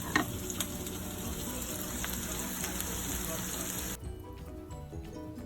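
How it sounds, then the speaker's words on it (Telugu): Onions frying with ginger-garlic paste in a pan, a steady close sizzle with a faint clink near the start, cutting to a quieter room tone near the end. "సో కొంచెం సేపు మంచిగా ఫ్రై చేయండి, ఒక 1-2 మినిట్స్ మంచిగా ఫ్రై చేయండి"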